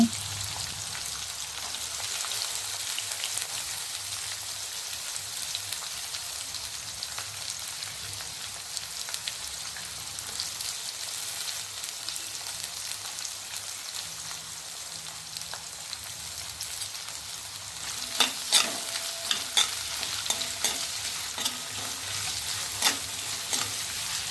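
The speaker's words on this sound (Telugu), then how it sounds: "ఇప్పుడైతే ఉడికింది కదా, ఉల్లిపాయ వేసేసుకుంటున్నాను." Onions fry in a pan for lentil dal with a continuous loud sizzle, joined near the end by a few scraping stirs of a spoon, with no talking.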